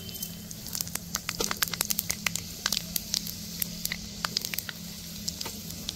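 Panch phoron spices crackle close up in hot oil with bay leaves and torn dried red chillies, giving irregular sharp pops and spatters over a steady low sizzle, with no voices.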